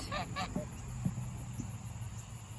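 Two quick goose honks up close at a goat playground, followed by quieter grunting calls over a steady outdoor background.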